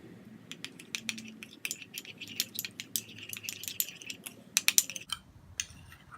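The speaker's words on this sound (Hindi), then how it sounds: "सब चीज़ों को मिक्स करेंगे।" Spoon mixing a homemade skin cream in a small container, stirring ingredients together with a tablespoon of Fair and Lovely. Rapid, irregular light clicks and taps sound close up, with no one speaking.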